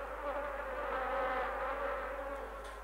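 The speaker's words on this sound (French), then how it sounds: "Bonjour, ma sœur l'abeille." A worker honeybee buzzing near a hive in an animated setting, a steady close droning hum lasting throughout with no talk.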